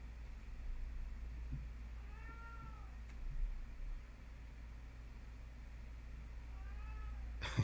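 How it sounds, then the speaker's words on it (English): A cat yowls outside a door, two drawn-out wavering meows a few seconds apart, muffled and moderately distant over a low steady hum. "Can you guys hear my cat yowling outside the door?"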